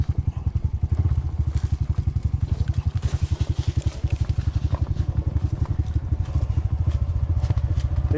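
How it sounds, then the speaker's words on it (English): A Honda CT 125 motorcycle on a steep dirt trail, its engine braking downhill with a steady, rapid, throbbing low beat that carries on throughout, close and fairly loud, with some light clatter and crackle over the top. "he can still use his engine to brake with coming down these hills"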